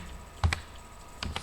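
Two short clusters of keyboard keystrokes, a few quick taps each, close and fairly quiet while entering code for an HTML lesson, with a gap of near silence between them.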